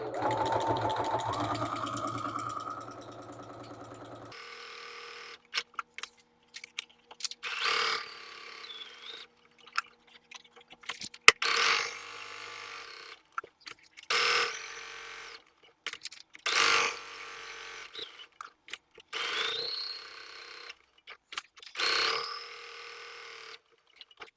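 A sewing machine stitches lines on paper in several short mechanical bursts with quiet gaps between, close and clear, with a brief louder whir at the start.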